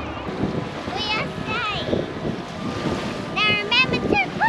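A small tinny aluminium boat on the water in wind, with steady broadband wind and water noise throughout and people talking over it.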